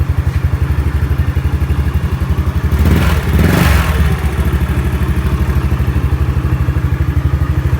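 Motorcycle started using a license in place of a key, its engine idling close by in a steady loud chug, with a brief rise in revs and clatter midway before settling back to idle.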